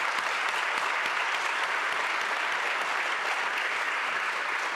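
Sustained audience applause fills a school district's annual address hall, dense and steady with no voices over it.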